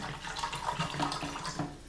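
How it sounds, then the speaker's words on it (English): Water pours steadily into a Nalgene canteen cup while cooking a beef taco rice dish, a close, continuous splashing stream lasting about two seconds with no talking. "so we're going to add the water"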